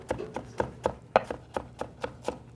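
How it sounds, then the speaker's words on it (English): A knife chops food on a cutting board during a cooking demo, striking in a quick, steady rhythm of about ten crisp, close chops with no talking. "What I like to do for cutting quickly is cut everything in a line"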